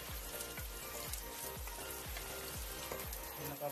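Ginger and onion sauté in a hot pan while papaitan is being cooked. A steady, close sizzle runs throughout, with a regular stirring scrape about every half second and no voices.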